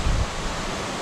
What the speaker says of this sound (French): Donc du coup on est enfin arrivé à la cascade. Et c'est magnifique.